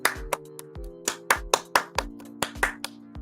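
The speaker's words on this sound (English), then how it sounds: "golf clap, round of applause" Sparse, deliberate hand claps ring out one at a time in a slow, uneven rhythm, a close and crisp golf clap from a few hands rather than a crowd, over a faint steady hum with no talking.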